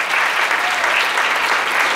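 A church congregation claps for Jesus Christ in a brief, loud, continuous burst of applause filling the sanctuary.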